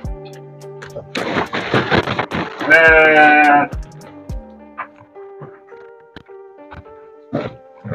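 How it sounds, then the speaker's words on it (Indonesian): A sacrificial sheep bleats once, loud and wavering, in a pen on a sheep farm in Indramayu, amid clattering knocks and thumps from the pen before and after. "Ini stok domba kurbannya."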